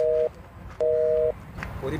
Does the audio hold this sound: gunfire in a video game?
no